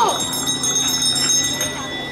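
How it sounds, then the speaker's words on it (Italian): A bell rings steadily with a bright, sustained metallic tone during a 5000 m points race semifinal on a track. A commentator talks over it, and crowd and arena noise fill the background. "dobbiamo sentire la campana"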